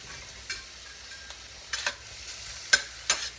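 Pepperoni and steak sizzle softly in a frying pan, with a few scraping stirs and clinks of a utensil breaking through the steady low hiss.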